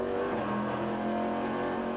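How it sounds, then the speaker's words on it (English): Onboard a Corvette C5-R race car during a 2003 ALMS race, the engine roars loud and steady at high revs, a dense sustained drone filling the whole two seconds with no talk. "Very familiar and distinctive sound of that C5R engine, just awesome, and one of the loudest things on the circuit as well, almost deafening."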